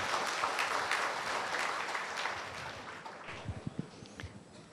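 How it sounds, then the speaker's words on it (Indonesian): An audience at a Dharma Suci gathering applauds together, a full crowd clapping that gradually thins out, leaving a few scattered louder claps near the end. "Oke, tepuk tangan buat kebersamaan kita hari ini."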